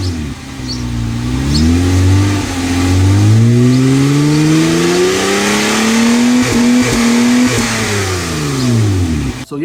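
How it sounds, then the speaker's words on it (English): Honda Accord fitted with an aftermarket exhaust revs hard and loud, its engine note climbing and falling through several long sweeps with brief blips near the end, no voices. "They actually sound pretty decent with an exhaust."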